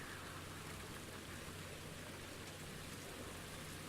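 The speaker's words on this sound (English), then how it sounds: "Listening to the pitter-patters of rain." Steady rain falls in the video game Ultimate Fishing Simulator, a continuous even patter of drops that stays constant and fairly soft throughout, with no voices.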